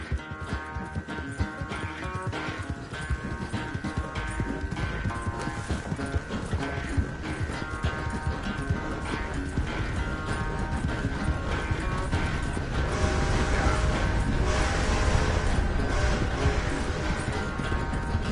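A horse clip-clops along in the video game Red Dead 2, steady hoofbeats mixed with creaking tack and mechanical clatter, growing louder toward the end, no voices.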